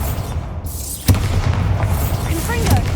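Bombarda spell in the video game Hogwarts Legacy sets off a single sharp blast with a low thud, heard among ongoing combat effects and a character's voice.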